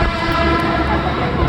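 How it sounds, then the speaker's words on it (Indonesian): Short airport train arriving at Bekasi station, a loud, continuous rumble of wheels and carriages rolling close by with no pause, and no voices heard. "Kita lihat dari kejauhan ada kereta datang. Nah, ini kereta bandara ya"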